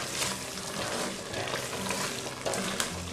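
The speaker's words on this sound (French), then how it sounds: "Donc je vais mélanger." Peanut paste fried in oil bubbles and sizzles in a pot while being stirred, a short stretch of steady close frying noise with a few soft scraping knocks.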